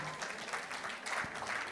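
An audience at a Korean co-op general delegates' meeting cheers and applauds in a brief, dense burst of clapping and voices.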